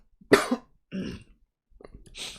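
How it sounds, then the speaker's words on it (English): A couple of short, harsh coughs spaced apart, close and fairly loud, followed by a softer throat-clearing rasp. "worst part was I coughed a little bit"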